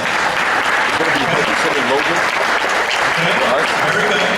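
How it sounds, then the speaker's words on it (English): Family members at a reunion give a round of applause, a dense, steady wash of many hands clapping from a gathered crowd, with voices faintly mixed in. "let's give the offsprings from that union a round of applause"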